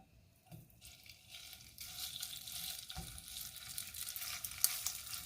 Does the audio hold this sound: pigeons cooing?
no